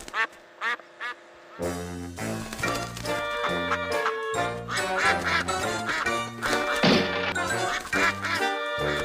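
Ducks quack close and loud in a quick series of calls over music, starting with a few separate quacks before the sound thickens.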